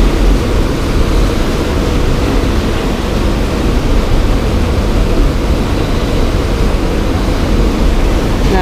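Strong wind blows at about 20 miles an hour on a cold, bare-treed late-April day while fishing, a steady, loud broadband rush that holds without pause throughout.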